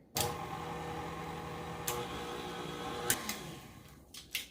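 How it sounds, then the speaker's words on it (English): Electric hand mixer whirring steadily as it blends no-bake cheesecake filling, a close, continuous motor hum with a few sharp clicks and knocks against the bowl. "Now, let's get our mixer back on and get that incorporated."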